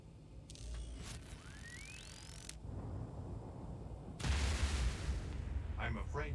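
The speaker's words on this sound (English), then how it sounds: "I'm afraid this caused an explosion somewhere nearby." A nearby explosion in the Encodya point-and-click video game, heard as a rising mechanical whistle followed by a loud, sustained rumbling blast with crackling debris, and no talk.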